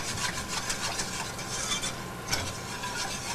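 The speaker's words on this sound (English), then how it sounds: "Okay, give it a stir." A spoon stirs a pot of heating milk seasoned with kosher salt and nutmeg, making steady rhythmic scraping and rubbing strokes, close and moderately quiet, with no talking.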